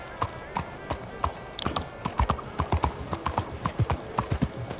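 Horse hooves clip-clop steadily along a city roadway in Red Dead Redemption 2, a regular rhythmic clatter of close, fairly loud hoofbeats throughout.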